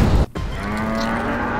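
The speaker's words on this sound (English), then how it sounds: "That's a giant cow." A giant cow in the video game Happy Humble Burger Farm gives one loud, close, drawn-out moo with a steady pitch, preceded by a short burst of noise and a brief gap.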